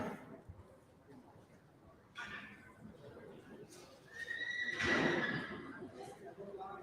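A 10-year-old grade bay roan gelding at a horse sale whinnies once mid-clip, a clear neigh rising over the murmur and background noise of the sale ring.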